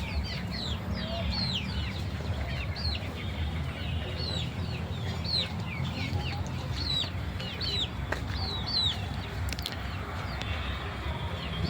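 Hens and roosters on a small backyard farm cluck and squawk repeatedly, with short bright calls scattered over a steady low rumble of background noise.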